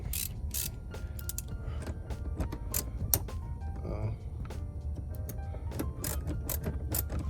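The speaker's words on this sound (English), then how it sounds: "So I take the Torx 10 socket and the 3/8 ratchet to loosen it up." A 3/8 ratchet with a Torx 10 socket loosens screws on a Cadillac ATS 2.0T, giving bursts of sharp, rapid ratchet clicks in repeated strokes, close by, with a person talking in between.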